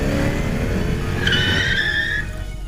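A car drives with its tires skidding, a sharp squeal rising over a steady, loud engine and road rumble for about a second before fading back to just the engine.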